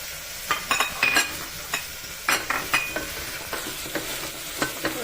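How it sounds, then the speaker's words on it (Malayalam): Chopped onion and green chilies sizzle in a hot pan for a cauliflower stew, with a steady frying hiss broken by repeated stirring scrapes and clinks. "ചെറുതായിരുന്നു വെച്ചിരിക്കുന്ന സവാള ഇതിലേക്ക് ഇട്ട് പച്ചമുളകും ഇതിനോടൊപ്പം ചേർക്കുന്നു"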